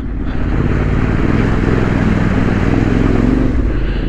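A motorcycle engine runs loud and steady as the bike rides through undulating ground and water splashes at a moto-camp in Eryri, Wales, a continuous close rumble with the splashing buried under the engine noise.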